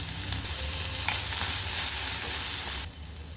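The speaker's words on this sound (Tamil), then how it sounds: "வெங்காயத்தை நல்லா வதக்கி விட்டுக்கு" Onion sautéing in a pan with a dried red chilli and curry leaves gives a loud, dense hiss of sizzling oil with a few stir knocks, cutting off abruptly near the end.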